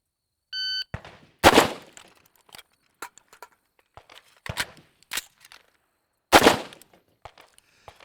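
A shot timer's electronic beep sounds first, followed by a series of sharp, loud tactical rifle shots with irregular gaps during a speed-reload qualification drill, with faint clicks and handling noises between the reports.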